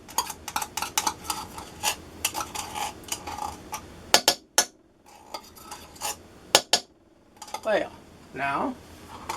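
Spoon scraping and clinking against a pot while mixing tomato paste for spaghetti and meatballs, a run of quick close metallic taps and scrapes with a brief pause, under light talk.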